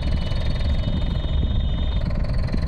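A car engine runs steadily after refuelling, a close, rumbling idle with a faint high whine as the revs hold and climb slightly.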